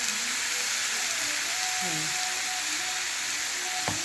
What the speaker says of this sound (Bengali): দিয়ে ভালো করে নুন হলুদ দিয়ে ভালো করে আমি ভাজা ভাজা করে নেবো